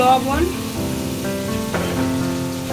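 Chopped onion and chili hitting a hot pan, a steady close sizzle and crackle of frying throughout, with tonal kitchen background underneath.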